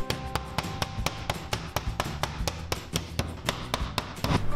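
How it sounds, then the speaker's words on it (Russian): A mallet pounds chicken leg meat covered with plastic film, delivering sharp, evenly spaced thuds about four per second, loud and close, with no talking. "Ребят, бьем и немножко оттягиваем в сторону молотком."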